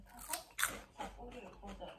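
Crunchy Cheetos cheese snacks bitten and crunched near the mouth, with a couple of sharp crisp crunches standing out among people talking.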